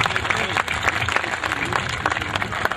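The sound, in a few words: audience applause welcoming a poet to the stage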